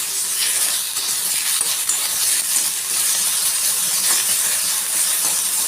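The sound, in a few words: cashews frying in a pan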